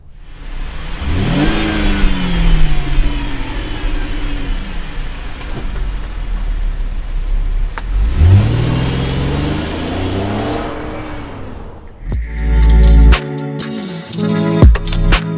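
A 2017 Chevy Equinox LT SUV accelerating hard, engine revving up through two gear pulls with a rising, loud mid-pitched drone, followed by a burst of louder, harsher noise at the end.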